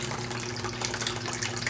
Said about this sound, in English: Kind of sounds like a creek or a little fountain.